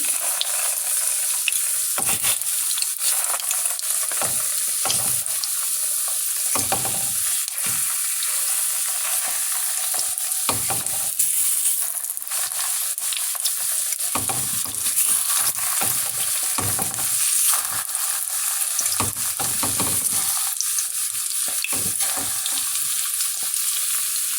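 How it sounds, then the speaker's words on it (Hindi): Beef shami kebabs fry in a pan of oil with a loud, dense sizzle that runs on for the whole stretch, crackling in bursts that swell and ease, heard up close with no voices. "कबाब का कलर चेंज हो गया एक साइड से, अब मैं इसकी साइड चेंज कर देती हूँ"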